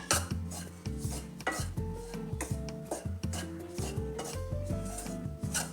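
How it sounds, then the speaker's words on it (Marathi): Flour roasted and stirred in ghee in a pan for dry fruit ladoo, with repeated rubbing and scraping strokes of a spoon against metal, close and rhythmic, over soft background music. "पीठही चांगलं खरपूस भाजून घ्यायचं मंद आचेवर तूप चांगलं परतून घ्यायचं"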